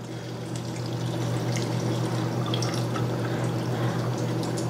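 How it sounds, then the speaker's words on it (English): Brine pours steadily into jars of fermenting dill pickles, a continuous close trickle and splash with faint drips over a low hum. "And then we fill up each one of these jars"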